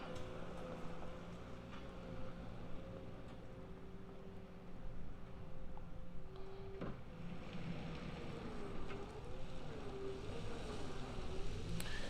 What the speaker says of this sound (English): that Skidsteer's just barely above an idle right now